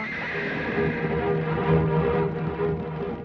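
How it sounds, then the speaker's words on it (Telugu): A horse whinnies and snorts close by, a steady bray-like call with some clopping underneath and no talking. "గుర్రం వెనక్కు పోతుందో"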